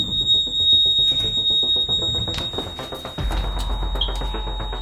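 A fire alarm in a nursing home during a fire drill: a shrill, piercing alarm beeps continuously at close range, steady and loud for the whole stretch.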